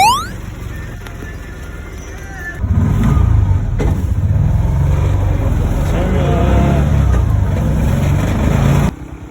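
A motor tricycle's engine drones while riding on Siargao island, swelling into a louder, rougher rumble partway through and holding steady before dropping away near the end, with wind and road noise around it.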